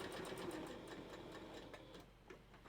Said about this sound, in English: give me just a second to restitch these